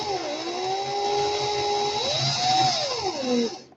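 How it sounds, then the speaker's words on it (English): A power drill running in reverse twists coil wires together, its motor a steady whine that rises and dips in pitch as the speed changes, close and loud with no voices. "Drills in reverse because I did the Clapton in the forward."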